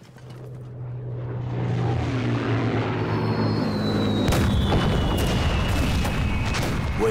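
Enemy Japanese aircraft pass over in a wartime drama: a swelling, roaring drone with a falling engine whine, then a sudden loud blast and rumbling explosions continuing underneath.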